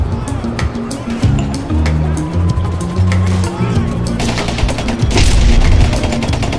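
Heavy weapon gunfire from Franklin in Grand Theft Auto, dense rapid bursts of shots rolling over a constant backdrop of game noise, with a heavier, louder volley near the end.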